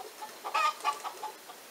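A rooster in the village of Montcuq gives a few soft, faint clucks in quick succession, with quiet background between the calls and no voices.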